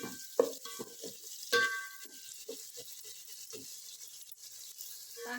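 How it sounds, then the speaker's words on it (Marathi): Onion sautéing in a pan until golden for an egg biryani, with soft scraping stirs and faint, low sizzling, a few sharper clinks of the spoon against the pan, quiet and close. "सारखा परतून घ्यायचा आहे कांदा अगदी त्याला सोनेरी रंग यायला पाहिजे असा परतून घ्यायचा आहे कांदा"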